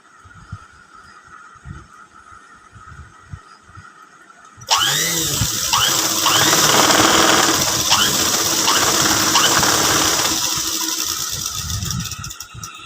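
A sewing machine stitching a 30-inch blouse starts abruptly after a quiet stretch and runs loud and steady at close range, its rapid needle clatter continuing to the end with no talking.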